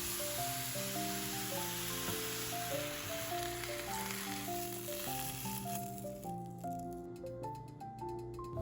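Bok choy stir-fried and stirred in a pan sizzles continuously with a bright, hissing crackle, heard alongside steady background music.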